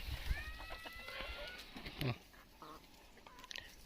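Several chickens cluck and squawk in short bursts around a farmyard, with a louder call near the middle and scattered calls trailing off.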